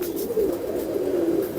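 Golden pigeons coo in a soft, low, rolling call, close by and continuous for a brief moment.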